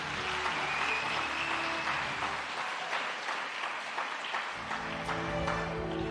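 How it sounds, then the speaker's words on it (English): A crowd applauds at a primary school prize-giving ceremony, a steady, moderate clapping that fills the hall and continues evenly for several seconds. "Can we give them a round of applause, please?"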